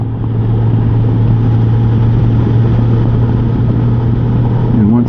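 Car engine droning steadily at highway cruising speed, a constant low hum with road noise from inside the cabin, continuous and fairly loud throughout.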